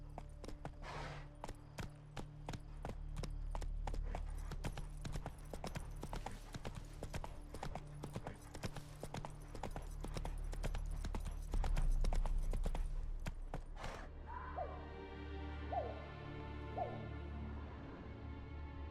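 A horse gallops in the video game Witcher 3, its hooves clip-clopping in a steady rapid rhythm for most of the stretch before the hoofbeats stop and fade.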